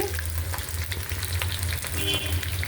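Steady sizzling of chopped garlic, onion and green chili frying in hot oil, with occasional stirring scrapes, close and continuous throughout.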